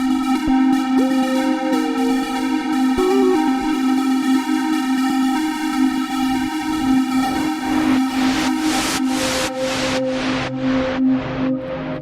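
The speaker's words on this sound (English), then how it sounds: "So that was actually a lead combined with keys." Synthesizer preset layering a lead with keys, sustained bright tones and a melodic line, then rhythmic stabbing chords toward the end, playing alone and loud.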